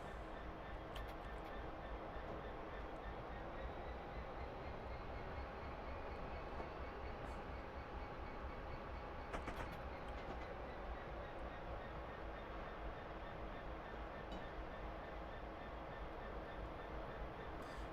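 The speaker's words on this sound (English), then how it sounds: "There's a train coming there." A Class 320 electric train in suburban Glasgow approaches with a steady, low rumbling roar and faint rail clatter, heard from a distance for the whole stretch with no talking.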